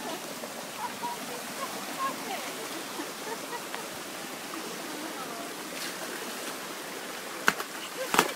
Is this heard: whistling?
no